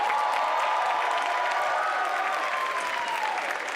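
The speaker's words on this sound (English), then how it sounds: "Can we get one more round of applause for them?" Audience applause at the 30th annual FACT variety show: a dense, sustained wash of clapping from a large crowd that holds steady for the whole stretch, with faint cheering mixed in.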